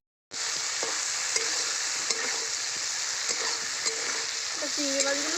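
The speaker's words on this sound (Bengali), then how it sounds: "এবার চিংড়ি মাছগুলো ভেজে নেব" Prawns fry in hot oil in a pan, a steady close hiss of sizzling with occasional stirring clinks and scrapes and no talking.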